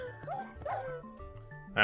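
Pet dog in the Minecraft video game yelping several times in quick, high whimpering bursts, close and moderately loud, followed by a brief burst of noise at the end.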